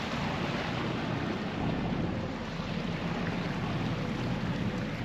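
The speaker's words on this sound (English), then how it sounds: "There's a freight boat." Steady low rumble of a passing freight boat's engine, mixed with wind buffeting and water wash, continuous and fairly loud throughout.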